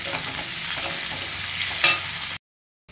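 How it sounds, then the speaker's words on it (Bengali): Potatoes sizzle steadily in hot oil in a pan, a dense crackling hiss with a brief louder burst near the end before the sound cuts to silence. "আলুটা ভাজছি এখন।"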